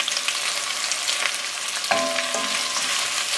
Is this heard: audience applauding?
no